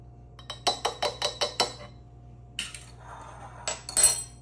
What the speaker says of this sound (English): I'm gonna stir them in.